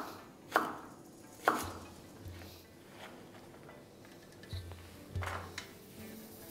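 A kitchen knife cuts pointed gourd into long strips on a board, producing a few sparse, sharp chops at close range in an otherwise quiet room.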